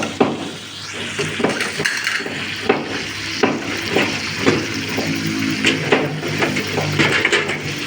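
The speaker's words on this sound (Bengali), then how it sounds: "তরকারিটা একটু ডাইগা দিই। কষানো হোক" Curry is stirred in a pan while it cooks, with close repeated scrapes and clinks of a utensil over a steady sizzle.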